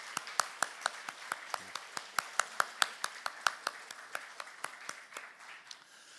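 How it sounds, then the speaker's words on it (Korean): A church congregation claps steadily in unison, crisp even beats about four per second for several seconds, close and fairly loud, thinning slightly toward the end. "사랑과 격려의 박수 부탁드립니다"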